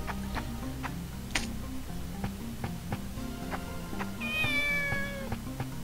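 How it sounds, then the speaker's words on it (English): A single clear cat meow rises near the end of a Shenmue game clip, preceded by a soft, steady ticking and faint background murmur. "Stop meowing, I gave you the best food."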